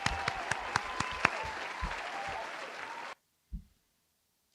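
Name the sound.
studio audience applause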